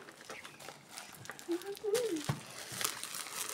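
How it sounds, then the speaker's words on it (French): Packaging crinkles and rustles while a parcel is unwrapped indoors, soft intermittent crackles with a few sharper tears, fairly quiet, with people chattering faintly in the background. "parce que Lucas, il nous aide à déballer."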